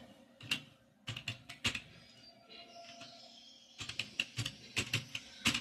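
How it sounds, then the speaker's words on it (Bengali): Names are typed on a computer keyboard in quick bursts of close, crisp keystrokes, separated by short pauses, with no talking. "এখানে আমরা 4-5টা নাম দিয়ে দেখাবো। প্রথমে আমরা লিখছি অমর হালদার,"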